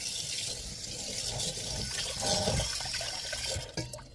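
Tap water runs steadily into a kitchen sink during washing up, a continuous close splashing stream with occasional clatter near the end.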